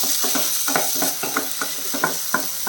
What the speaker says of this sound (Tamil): இப்போ வந்து இதில் நம்ம கட் பண்ணி வச்சுருக்கக்கூடிய தக்காளியும் சேர்த்து வதக்கிடலாம்